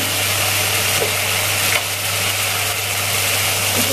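Chopped vegetables sizzle in a hot pan in a home kitchen, a loud, steady hiss of frying that runs unbroken for about four seconds with a faint low hum beneath it and no talking.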